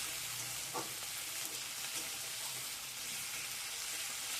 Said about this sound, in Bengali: দেখুন আমি মশলাটাকে দিয়ে বেশ একটু ভাজা ভাজা করে নিচ্ছি